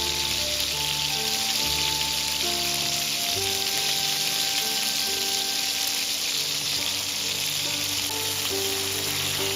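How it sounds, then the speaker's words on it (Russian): Meatballs fry in vegetable oil with a continuous crackling sizzle, close and even in level, while music plays underneath. "Обжариваю фрикадельки на растительном масле"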